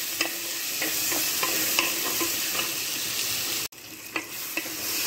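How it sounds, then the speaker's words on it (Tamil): Onions and tomatoes sautéing in a pan, giving a steady loud sizzle with repeated scraping stir strokes, close up and without talk, briefly cut off near the end before resuming. "வெங்காயம் வதங்கினதும் அது கூட ஒரு மூணு தக்காளி சேர்த்து நல்லா வதக்கிக்கிங்க"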